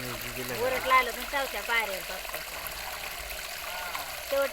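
Water rushes and trickles inside a borewell in a steady, hollow flow, with someone talking over it throughout.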